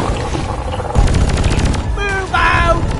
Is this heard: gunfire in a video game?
yes